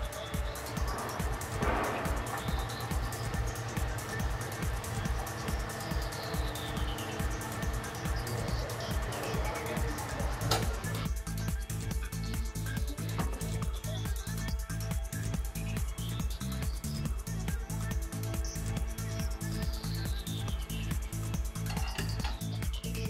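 A TWIN BUSCH TW X-36 tyre changer runs with rhythmic mechanical clattering and a steady motor hum as its bead press roller moves into position against a tyre. Faint rising and falling whines drift through, and a voice speaks over the machine.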